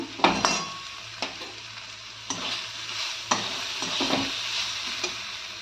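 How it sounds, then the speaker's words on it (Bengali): Chili, coriander and cumin powder being stirred into tadka dal in a pan, with a steady sizzle and repeated scraping strokes of a spoon at a moderate, uneven rhythm, close and fairly loud, with no talking. "দিয়ে এটাকে ভালো করে মানে মিশিয়ে দিতে হবে।"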